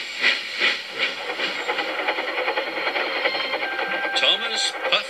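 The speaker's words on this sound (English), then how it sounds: "Thomas puffed across the countryside" A cartoon steam engine train puffs across the countryside, making rhythmic, hissing chuffs in a steady loop that sounds like a sound effect rather than a real locomotive.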